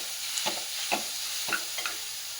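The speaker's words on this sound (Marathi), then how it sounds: "तुपामध्ये गाजर छान परतून घेऊ." Carrots being sautéed in ghee, stirred in a pan with soft scraping strokes about every half second over a low, steady sizzle.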